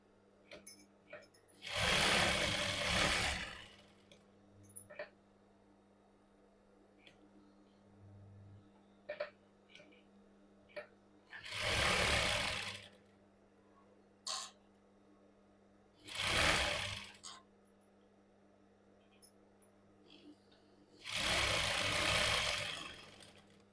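Four separate bursts of sewing machine stitching on a princess cut blouse, each a few seconds long, with quiet handling and faint clicks between them over a low steady hum.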